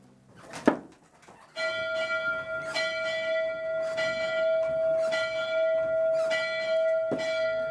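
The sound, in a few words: steam locomotive bell ringing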